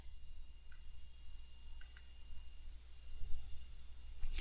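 A few soft, sharp mouse clicks sound separately over a low, steady hum in a quiet room, with a final click at the end.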